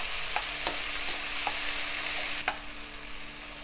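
Chopped tomatoes cooking in a pan for Kerala-style fish curry sizzle steadily and closely, with a few sharp spoon taps against the pan and a low steady hum underneath.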